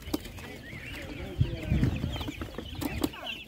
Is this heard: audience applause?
no